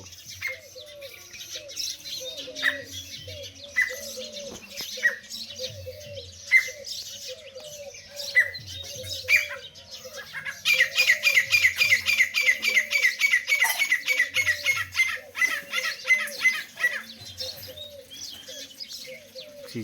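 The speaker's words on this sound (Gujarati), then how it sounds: "છે તેતરો." Partridges call repeatedly outdoors in the countryside, with a varied mix of chirps, coos and squawks, some near and some farther off, building into a loud, rapid, rhythmic chattering chorus in the second half before easing.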